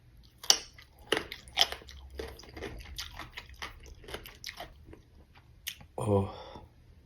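Sour mango dipped in a spicy, salty jeow sauce being chewed close up with wet, crunchy bites and mouth sounds, ending in a short murmured vocal reaction.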